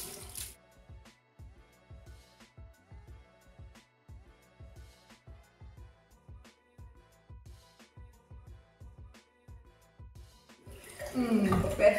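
Warm water splashed onto a face at a bathroom sink in a steady run of soft, close splashes, ending with a louder rush of running tap water.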